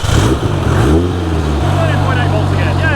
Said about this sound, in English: It's like starting up. It's giving the throttle.